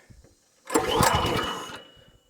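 The cold engine of a County Line 25 ton log splitter is pulled over and catches, a brief sputtering burst of roughly a second that swells, runs raggedly, then fades, with soft handling noises before and after.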